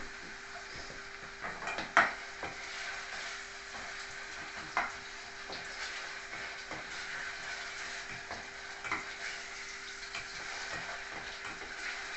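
Onions soften in a hot pan as the base for a peppercorn steak sauce, a low continuous sizzle with occasional sharp clacks of a utensil stirring, close and quiet, no voices.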